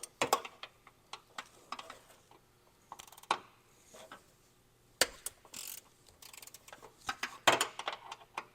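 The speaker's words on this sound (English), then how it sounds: "we're going to use a 12mm wrench for that to get in there and loosen the bolt." Ratcheting clicks from a 12mm wrench loosening a bolt behind a bracket while fitting an oversized tire kit on a 5th Gen 4Runner, heard as scattered close ticks and metallic bursts with quiet gaps between.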